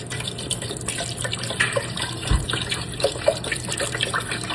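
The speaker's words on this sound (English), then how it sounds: "I'm gonna pour it right on top of the turkey parts" Liquid being poured over raw turkey parts for a Thanksgiving broth, a steady close splashing pour running through the whole stretch, with a few brighter splats along the way and no talking.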